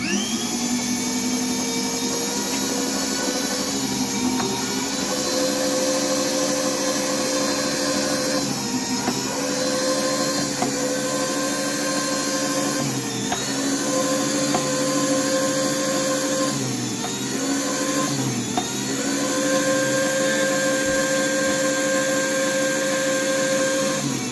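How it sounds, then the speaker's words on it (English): A Hamilton Beach electric meat slicer slicing salami, its motor giving a steady, loud whirring drone with a blade whine that dips slightly at intervals as the meat passes through, continuous throughout with no talking. "Just watch the beauty from behind after when I start slicing this."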